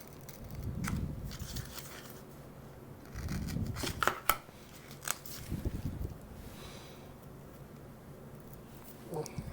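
Vinyl being cut into a patch for a Panasonic Mr Slim radio case, a few scattered snips and crinkly handling noises at close range, quiet overall with brief louder bursts.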